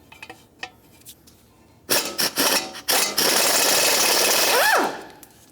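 A 10mm bolt is backed out of the ABS sensor on a 1999-2003 Toyota Solara steering knuckle: a few light clicks, then loud bursts of a power tool whirring that settle into a sustained run before cutting off.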